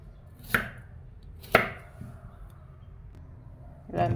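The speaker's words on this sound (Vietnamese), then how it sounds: "Cắt miếng vừa ăn." A knife chops a halved cucumber with its ends trimmed into bite-size pieces on a cutting board: a few sharp, close cuts spaced about a second apart, with quiet pauses between them.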